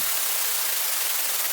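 Synthesized noise wave with chorus, reverb and a downward filter sweep for a dark tech house track, heard as a loud, steady broadband hiss filling the whole short stretch, with no talk.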